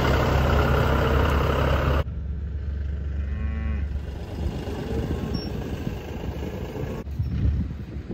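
A newborn heifer calf gives a drawn-out moo in the middle of the recording. A vehicle engine idles steadily in the background throughout.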